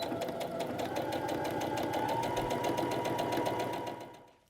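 A sewing machine runs steadily while stitching the outside curve of a fabric grocery tote, a fast even mechanical whir and clatter that continues alone before stopping at the end.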